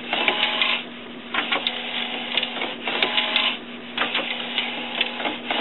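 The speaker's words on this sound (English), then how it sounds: "we're printing out now a photo" An HP Designjet wide-format printer, fitted with a continuous ink supply system, prints a photo with a steady mechanical whir and repeated rhythmic passes of the carriage sweeping back and forth, close up and with no talking.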